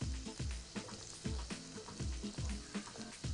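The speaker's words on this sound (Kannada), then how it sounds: "ಇದು ಆನಿಯನ್ ಸ್ವಲ್ಪ ಗೋಲ್ಡನ್ ಬ್ರೌನ್ ಥರ ಬಂದರೆ ಫ್ರೈ ಆಗಿದೆ" Onions frying in hot oil in a home kitchen, a loud, close sizzle broken by regular scraping stirs that come roughly every half second.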